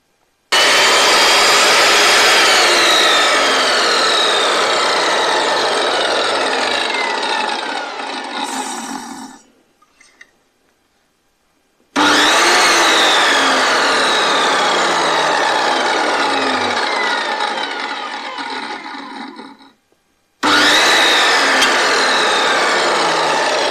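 A Patriot CS186 circular saw whines loudly in two long runs, starting smoothly without jerks, each spinning down into silence before starting up again at the end.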